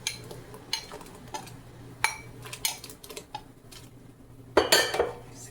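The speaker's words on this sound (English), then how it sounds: "I got it boiling pretty good, so I'm gonna drop in my gnocchis." Potato gnocchi tumbling into a pot of boiling water on a home stove, with a series of soft clinks and knocks against the pot, a small splashy burst near the end, and no talk.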